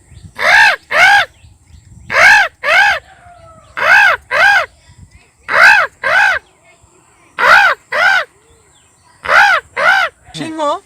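A man imitates a crow cawing from a tree branch, giving loud, close, nasal caws mostly in pairs, about a dozen in all, with short silent gaps between each pair.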